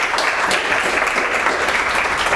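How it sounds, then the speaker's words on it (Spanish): An audience at an evening testimony gathering applauds a welcomed speaker, a steady dense wash of clapping, close and loud, with no talk over it. "Le damos un aplauso, por favor."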